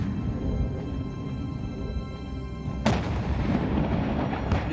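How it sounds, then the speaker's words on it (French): Artillery shells the Azovstal steel plant in a continuous heavy rumble, with one sharp nearby blast partway through and distant booms following. "Le déluge de feu redouble d'intensité sur l'usine."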